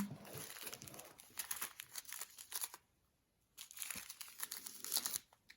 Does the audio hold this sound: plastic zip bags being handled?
yes